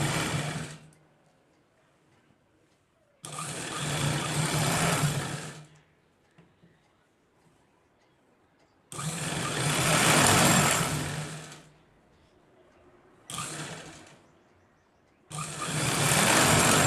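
A sewing machine stitching a joining seam on a full-flare lehenga, running in four separate loud bursts of a few seconds each, with near-silent pauses in between.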